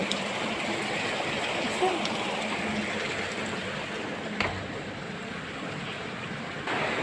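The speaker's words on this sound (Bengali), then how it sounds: "এমনিতেও বৃষ্টি আছে, অনেক বৃষ্টি।" Heavy rain falls while water streams off a roof, making a steady, dense rushing wash with a couple of brief knocks and no clear voices.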